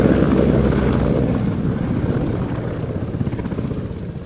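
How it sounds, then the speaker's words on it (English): EH-101 Merlin military helicopter of the Danish 722 Squadron flying a display at an airshow, a loud, steady rotor and turbine roar with rhythmic blade chop, fading slightly over the seconds. "Another tremendous display from the Danish military came courtesy of the EH-101 Merlin"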